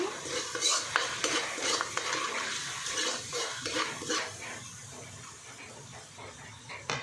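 Seasoned spaghetti sauce stirred in a pan, close spoon scrapes and wet sloshing in an irregular rhythm with light clinks against the pan, heard alone.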